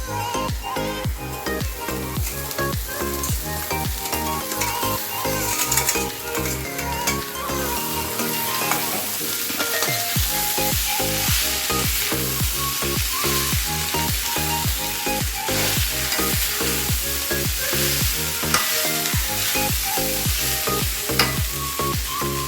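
Poha being stir-fried in a pan with onions, peanuts and chillies: a steady sizzle with scraping stirs, partly masked by a loud rhythmic music bed throughout.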